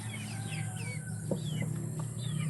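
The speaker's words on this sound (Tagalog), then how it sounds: "At marami silang alaga ditong mga manok." Several farmyard chickens cluck in short, scattered calls over a steady low background hum, fairly quiet and close, with no one speaking.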